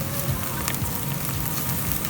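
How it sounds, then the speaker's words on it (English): Onions with garlic sizzling in hot oil in a pan, a steady, dense crackle and hiss of frying that holds at an even level throughout. "throw in your onions, let them sizzle for a few minutes"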